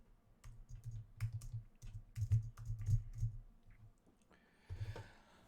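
Typing on a computer keyboard, a quick run of close, clattering keystrokes in irregular bursts with a short pause before a last flurry, no talk over it.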